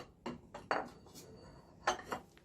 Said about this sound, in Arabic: ده نموذج تاني للطباق الصيني